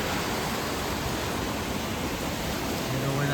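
Heavy monsoon rain and a rushing stream of water in Mangeli village in Konkan, a steady dense roar of flowing water with no break, loud and close, and no voices.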